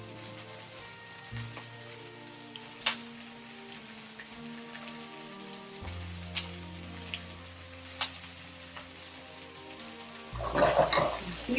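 Cabbage stir-fried in a wok sizzles steadily with a rain-like crackle, sharp clinks and taps scattered throughout, and a louder burst near the end.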